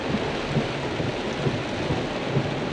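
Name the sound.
heavy rain pouring down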